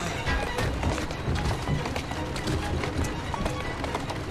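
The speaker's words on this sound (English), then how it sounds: "Who's a good horse?" Rapid, steady hoofbeats of a galloping horse in the video game Assassin's Creed Syndicate, loud and continuous, with a busy mix of other sounds underneath.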